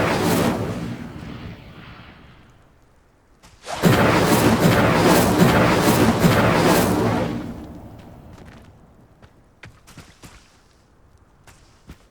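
Fire spell igniting pyres in Hogwarts Legacy: a fading roar gives way to a sudden loud whooshing blaze that burns for about four seconds, then dies into scattered crackles and pops.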